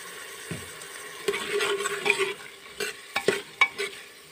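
Carrots and peas for veg pulao cooking in a pan, a low sizzle broken by several sharp scraping stirs of a spoon that come in quick bursts toward the end.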